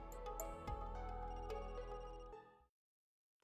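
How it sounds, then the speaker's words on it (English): A telephone rings in the video game Another Code: Recollection, a steady, loud electronic ring with bright repeated tones that runs for about two and a half seconds and then stops abruptly, leaving silence. "That's the phone."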